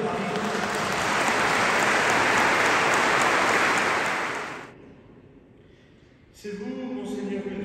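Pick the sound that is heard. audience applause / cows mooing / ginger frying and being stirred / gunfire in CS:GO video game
audience applause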